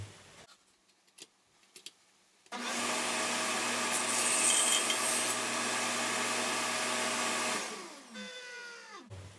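A biscuit joiner starts up and cuts a slot in hardwood, giving a loud, steady high motor whine for about five seconds, then winding down, after a few faint knocks and handling sounds.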